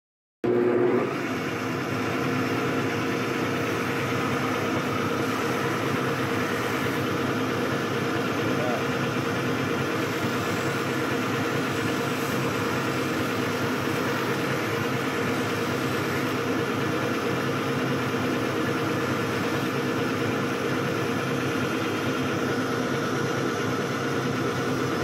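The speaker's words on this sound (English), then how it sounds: "Just a little bit of digging into the buffing wheel" Buffing wheel polishing nickel-plated metal, a steady loud whirring drone that holds continuously throughout, with no talk over it.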